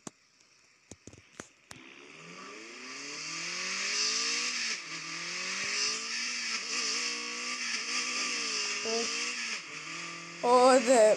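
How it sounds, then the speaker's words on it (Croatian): Engine of a drift car in the mobile racing game Drift Max Pro revs up after a few sharp taps, holding a loud, wavering whine with gear-shift dips, ending in a burst of tire squeal; no talking. "Slično malo da čujete auto, čisto ono, zašto ne."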